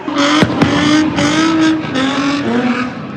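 Car engines rev loud and close at an illegal street takeover in downtown Los Angeles near Crypto Arena, a sustained roaring whine with sharp bangs and squeals near the start.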